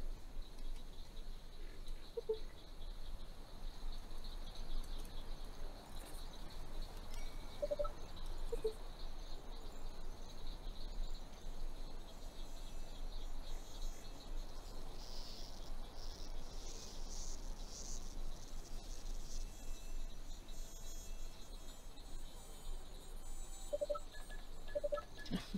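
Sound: mosquitoes buzzing in a video game

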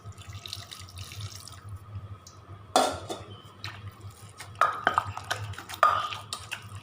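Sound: pouring chicken broth into mortar

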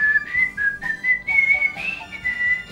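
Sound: whistled film theme

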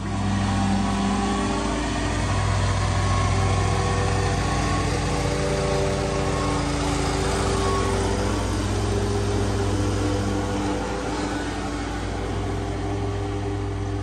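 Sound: big lawn mower engine running

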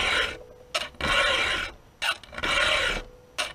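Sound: filing a chainsaw chain with a 3/16 round file

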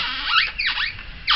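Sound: toy car wheels squeaking as it rolls

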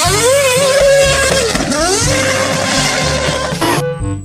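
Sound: toy F1 race car engine revving

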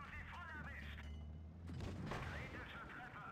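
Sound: tank gunfire in the video game World of Tanks Blitz

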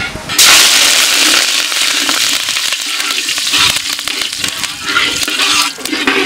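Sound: curry leaves frying in sesame oil

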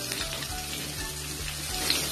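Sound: capsicum sautéing in a pan for chutney

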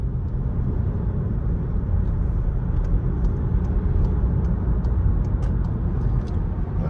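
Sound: car engine while driving, warming the oil

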